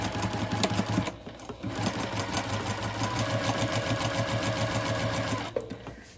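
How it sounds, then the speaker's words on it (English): A sewing machine stitches a border onto a quilt, a steady close whirring run of rapid needle strokes with a brief pause near the start, then continuing evenly until it stops at the end. "Okay, so I'm going to start sewing."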